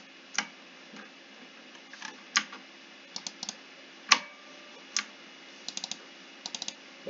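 Ctrl and other keys on a computer keyboard click crisply while someone works in SketchUp, arriving as scattered single taps and quick double and triple bursts, close-up and fairly quiet against a faint background hum.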